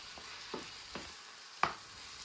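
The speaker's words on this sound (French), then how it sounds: "Puis je vais bien mélanger." A spoon stirs a sauce just mixed with two teaspoons of tomato paste for a white bean and meat dish, four soft scraping strokes over a quiet, faint sizzle.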